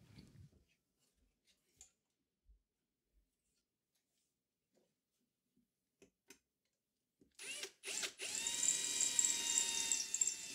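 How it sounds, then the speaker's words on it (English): A power drill bores a hole in the metal chassis of a 1993 Fender Blues Deluxe guitar amplifier, starting after quiet handling clicks and running as a loud, close, whining grind for the last few seconds. "It's just a matter of drilling one extra hole so that everything can mount nice and securely."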